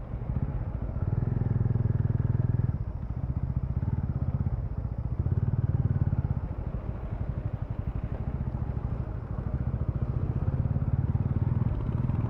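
A motorcycle engine rumbles steadily at close range during a ride on a mountain road toward Tungnath, the low throbbing drone swelling and easing with throttle changes across the whole stretch.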